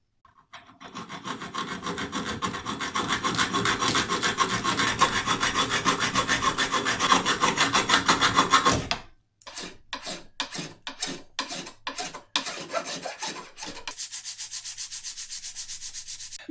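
Steady rasping of a hand saw cutting off metal pins on a handmade dovetail saw, followed by a series of separate short file strokes smoothing them flush, close and loud with no talk.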